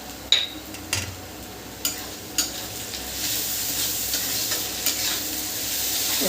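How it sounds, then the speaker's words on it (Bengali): Onions frying in a pan ahead of mutton: a soft constant sizzle broken by several sharp spatula scrapes and taps against the pan, close and unaccompanied by speech. "এবার পেঁয়াজটা ভাজা হচ্ছে"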